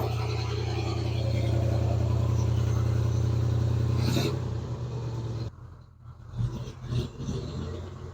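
A 1987 Oldsmobile Cutlass Supreme 442 engine idles after a cold start, a steady, loud low drone for about five seconds before the sound drops and turns uneven and quieter.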